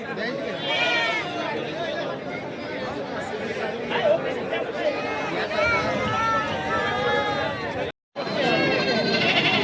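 Goats and kids bleating repeatedly at a busy Begampur goat and buck market, close and overlapping, amid constant crowd chatter and people talking nearby.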